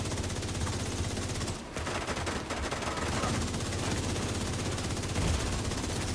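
Russian enemies open fire in a video game shootout, with loud, dense bursts of rapid automatic gunfire hammering almost continuously and only a brief dip partway through.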